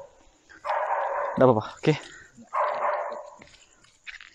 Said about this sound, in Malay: Rupanya anak anjing.